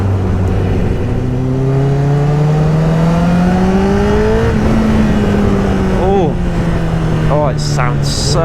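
A 2011 Honda CBR1000RR Fireblade inline four-cylinder engine holds a loud, raspy drone that climbs steadily in pitch, then eases and settles, heard up close and continuously.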